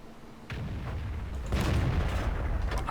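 Kanonenjagdpanzer tank gun firing in the World of Tanks video game, heavy booming blasts with a rumbling tail over continuous engine and battle noise.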